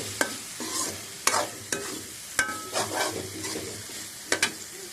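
Potatoes fry with spices in a pan, with a constant sizzle under repeated close scrapes and knocks of a spoon stirring them, coming in an uneven rhythm and with no talking.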